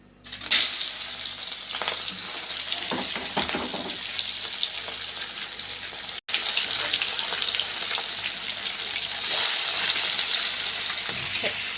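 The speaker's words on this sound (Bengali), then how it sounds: "তো চলো মাছগুলো ভেজে নিই আগে" Katla fish pieces frying in hot oil, with a loud, steady sizzle and spatter close by that runs nearly the whole time and is broken by one brief cut, and no talking.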